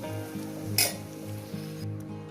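Mutton pieces going into spice paste and tomato in hot oil, a brief burst of sizzle with a quick clink, then a low steady fry close by, with no voices.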